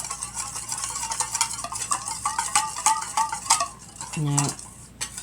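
A spatula mixes salad in a bowl with quick, busy clinking and scraping strokes, close and fairly loud, followed by a brief tonal ring near the end; one short spoken word is heard.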